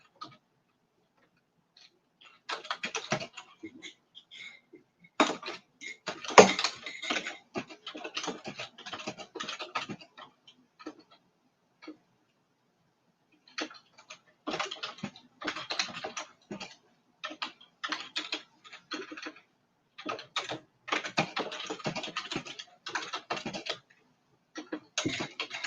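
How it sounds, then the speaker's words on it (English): Fingers type on a computer keyboard in irregular bursts of quick, close clicks separated by short pauses, with no talk over it. "So I'm just typing this."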